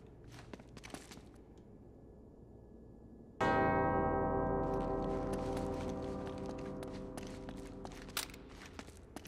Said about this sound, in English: Two bells resound in perfect harmony.